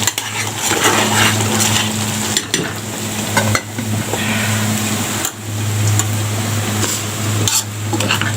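Rice being stirred in a pot while cooking koshari, a steady scraping and sizzling stir close by with occasional clinks of the utensil against the pot, continuous for several seconds with no talking.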